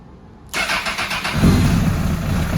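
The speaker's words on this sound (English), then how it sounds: "Let's go ahead and turn it over once or twice." A rebuilt, previously wrecked Honda CBR 1000RR motorcycle engine turns over after priming, a sudden loud broadband mechanical roar starting abruptly and continuing steadily with rough low-end churn, no talk.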